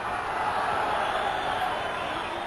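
A football crowd at Windsor Park for a Linfield match in the club's centenary season makes a broad, steady murmur, a continuous wash of many voices with no distinct chant or cheer.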